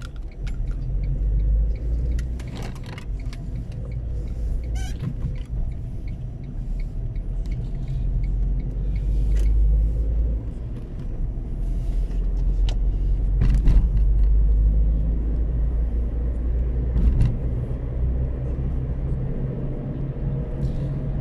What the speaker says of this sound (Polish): Wtorek, spory ruch samochodowy.